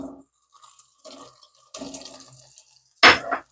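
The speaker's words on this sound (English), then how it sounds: "Now, it will be a lot of bubbling here." Butter stirred into melted sugar for salted caramel, giving wet sizzling and bubbling in short bursts with clinks of stirring, ending in a loud hissing surge near the pan.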